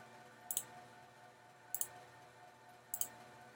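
Three faint, evenly spaced double clicks from a computer mouse over a low background hum.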